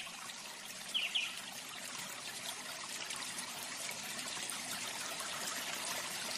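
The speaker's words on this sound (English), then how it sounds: "We have the rolling waters of a stream, or perhaps even waterfall," Gentle, continuous trickle of a flowing stream, soft and steady with a couple of faint splashy accents early on, no voices present.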